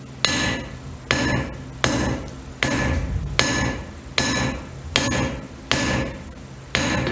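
A blacksmith's hammer strikes hot metal on an anvil to draw it out, nine or so evenly spaced, ringing blows, close and clear with no talk.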